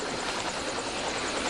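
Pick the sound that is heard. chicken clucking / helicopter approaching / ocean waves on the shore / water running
helicopter approaching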